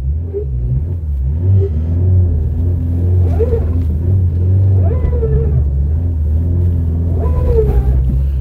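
Barn-find Ford Escort Mk3, parked since 1993, with seized brakes, backing up in reverse: a steady, loud engine rumble with rising revs in a few surges, alone with no talk.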